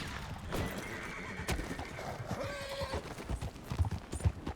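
A horse in the Red Dead Redemption 2 video game clip-clops steadily and whinnies. Its hooves and neighs sound close and fairly faint over game ambience.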